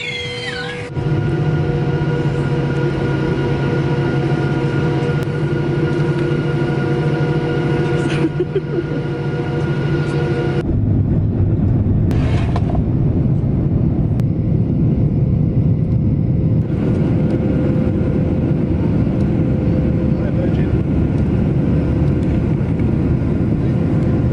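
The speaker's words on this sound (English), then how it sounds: "We're on the plane." Steady cabin drone inside a passenger plane, a low continuous hum with faint tonal whine that shifts to a rougher, broader rush about halfway through, constant throughout with no voices.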